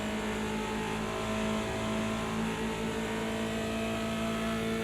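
Simulated BMW 2002 Turbo in Project Cars 2 at Bathurst, engine held at steady high revs under hard throttle with a constant loud buzzing tone, alone without talk.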